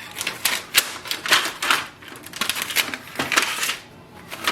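Packing paper and a moisture bag are pulled out of the paper tray of a Brother HLL3280CDW laser printer, giving close, crisp crinkling and rustling bursts in an uneven rhythm with no voices.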